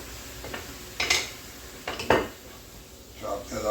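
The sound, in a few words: chopping food in a pan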